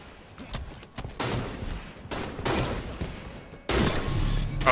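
Gunfire in a Halo match: bursts of rapid automatic shots come in several clusters separated by short pauses, the last burst loudest and closest, with no talk.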